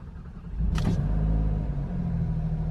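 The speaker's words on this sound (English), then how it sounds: "we're gonna need to start the engine for this one" An Alfa Romeo Giulia Quadrifoglio engine starts up close by: a short sharp starter whir, then the engine catches with a loud rumbling burst and settles into a steady, deep idle.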